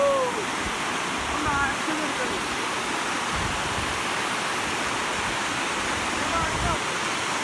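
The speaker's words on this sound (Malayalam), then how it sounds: "അത്രയും വെള്ളച്ചാട്ടങ്ങൾ, ഒരു ചെറിയ സ്ഥലങ്ങളിൽ കൂടി വെള്ളച്ചാട്ടങ്ങൾ ഇങ്ങനെ വരികയാണ്" Several waterfalls pour through a small scenic area, a steady, loud broadband rush of falling water filling the whole stretch, with faint birdsong on top.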